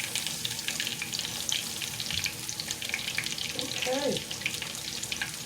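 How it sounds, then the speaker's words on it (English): Yellow squash and onions sauté in a pan with a steady crackling sizzle, water running and a brief stir nearby, while a voice says a single short word. "This is yellow squash I'm sauteing."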